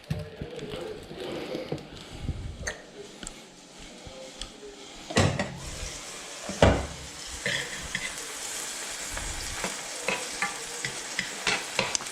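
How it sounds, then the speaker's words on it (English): Steak frying uncovered in a pan at home, a steady close sizzle with scraping and stirring clatter and a few sharp utensil knocks, no talking. "really you like to cook steak without the lid on"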